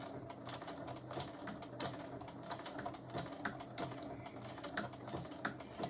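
A sewing machine stitching a Christmas tree hot pad, a quiet, close run of fast rhythmic clicking and ticking.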